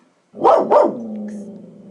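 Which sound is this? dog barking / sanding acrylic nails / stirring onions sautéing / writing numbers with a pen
dog barking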